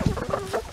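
Chickens in a hay-bedded coop on a small Florida homestead cluck in short, close bursts, several quick clucks in under a second with no voices.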